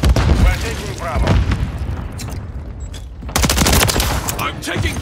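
Call of Duty Modern Warfare 3 multiplayer firefight with dense bursts of rapid automatic gunfire and booming blasts, loud and close, while radio-style voices call out over the shooting.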